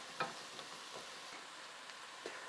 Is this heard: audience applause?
no